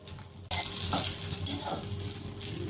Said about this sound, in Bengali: গাজরটা খুব ভালোভাবে সিদ্ধ করে ভেজে নিব।